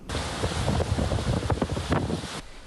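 Cyclone Chido's winds lashing the French island of Mayotte in the Indian Ocean, a loud, continuous roaring gale buffeting the microphone with surging gusts and no voices.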